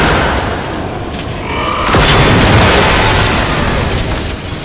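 A rocket launcher explosion in the video game Generation Zero gives a loud, sustained rumbling boom that swells midway and stays dense and noisy throughout.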